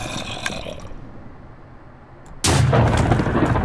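Musket firing in a modded video game weapon set, with one sharp report at the start that fades into quiet, then a second loud, sustained blast that holds to the end.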